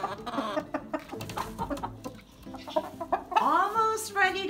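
Silver Laced Wyandotte heritage breed chickens cluck and chatter close by in a farmyard, with short repeated calls and a rising squawk near the end.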